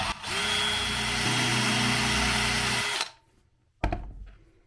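A power drill whirs steadily for about three seconds while boring out a hole in a window mount, then stops; a brief second burst follows after a short pause.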